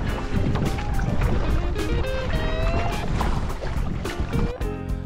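A boat is paddled across open water with steady rhythmic splashes, close to the microphone. Wind buffets the mic throughout.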